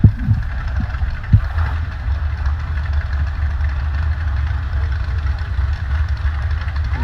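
Off-road race buggy with a 6-liter engine idling at an off-road park hill event, a steady low rumbling engine drone with an occasional knock or blip, heard at moderate distance throughout.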